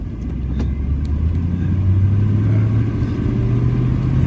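Inside a moving car on a road in Washington on a sunny day, a steady loud low rumble of engine and road noise fills the cabin, with no one talking.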